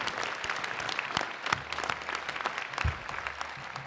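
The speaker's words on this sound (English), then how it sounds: "Let's have another round of applause for that beautiful performance." Audience applause at a spring new-student convocation after a musical performance, a sustained wash of many hands clapping at moderate distance, with a few louder individual claps standing out.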